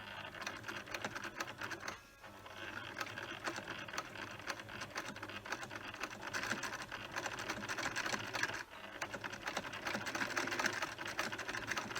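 A sewing machine runs steadily while stitching lace or shoelace string onto a fabric mask, its needle foot shifted to one side. The fast, dense mechanical whirring continues without pause for about twelve seconds, with only brief dips in speed.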